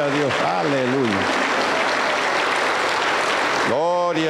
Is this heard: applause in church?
yes